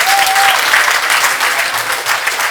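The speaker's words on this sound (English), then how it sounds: "Give yourself a little round of applause there, yes?" Applause from a seated audience at a live talk, a dense steady wash of clapping that fills the whole stretch at good volume, with no one speaking over it.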